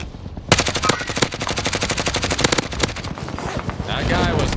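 GRAU assault rifle firing in Warzone, long rapid bursts of loud, evenly spaced automatic shots with short pauses, then a rising mechanical whir at the end, a voice talking faintly underneath.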